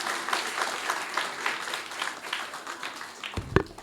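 A short burst of audience applause, moderately quiet scattered clapping from a crowd after a call to clap during a church sermon, ending with a sharper thump.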